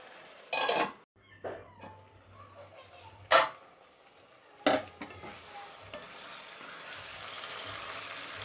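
Pork being braised in a pot with a little water for pork bhuni, with a few sharp scraping stirs and lid clatters over a low, steady sizzle that grows fuller toward the end; no talk.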